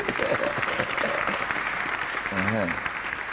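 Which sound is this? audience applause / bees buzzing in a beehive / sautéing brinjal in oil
audience applause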